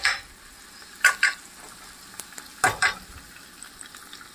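Ginger paste and turmeric fry in a pan with a low, steady sizzle, broken by a few sharp scraping stirs close by.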